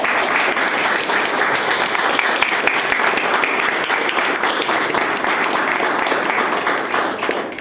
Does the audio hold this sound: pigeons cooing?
no